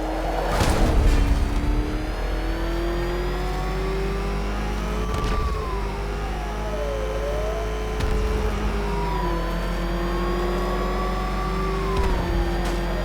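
Batman Arkham Knight car, likely the Batmobile, driving steadily with a continuous engine drone and shifting pitch, rising and falling like revving, with a brief louder burst near the start and no talking.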